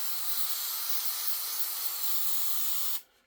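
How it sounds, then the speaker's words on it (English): Gorilla Glue contact adhesive hisses from a spray can in one steady, continuous burst of about three seconds, close and even, then stops abruptly. "So what I do is I actually just spray it"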